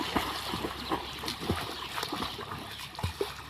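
Water splashing and sloshing in irregular bursts, close by, as someone swims and kicks in a pond; a few faint voices in the background.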